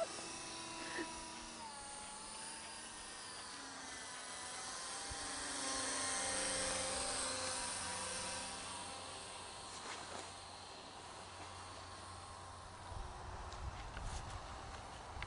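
A homemade RC plane built from pink foam insulation flies overhead, its faint buzzing motor whine rising and fading as it passes at a distance, with light outdoor background noise.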